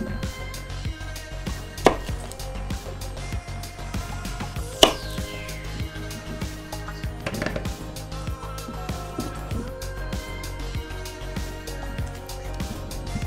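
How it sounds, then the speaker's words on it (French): A knife chops onions into quarters on a cutting board in a home kitchen, giving a series of close, sharp, irregular thuds, with two louder blade strikes standing out. "je vais prendre mes 2 oignons qu'il me reste et je vais les couper en 4"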